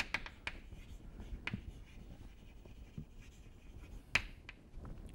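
A pen writes on paper, making soft scratchy strokes with a few sharper taps as the tip touches down. Close and faint against a low room hiss, with no voices.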